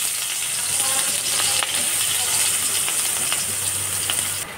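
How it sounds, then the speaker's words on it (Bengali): Chopped onion sizzles loudly in hot oil in a kadai, giving a dense, steady, close frying hiss with faint crackles throughout. "ওই কড়াইতে একটু তেল দিয়ে আমি দিয়ে দেবো পেঁয়াজ কুচি"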